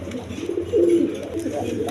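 Orange chila male pigeon with a bot beak cooing in one short low warbling phrase, close by over steady background murmur.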